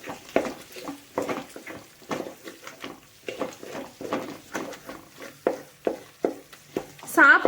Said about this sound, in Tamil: இப்போ இந்த டைமில் நம்ம கரண்டி வச்சு நம்ம கலந்து விட்டுக்கலாம்.